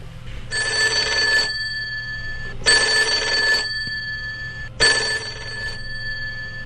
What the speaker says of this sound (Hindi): तभी अचानक फोन की घंटी बजी।